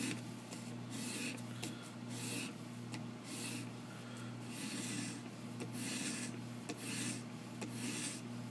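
A Benchmade 940 knife edge is drawn in light, repeated passes over grit polishing tape. The soft rhythmic rasping strokes sit over a steady low electrical hum, close but quiet.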